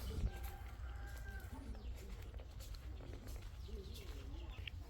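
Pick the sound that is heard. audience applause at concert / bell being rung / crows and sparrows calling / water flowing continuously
crows and sparrows calling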